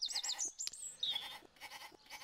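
Sheep bleating in the Sega CD version of the video game PowerMonger, a few wavering cries in quick succession mixed with short game clicks and chirps.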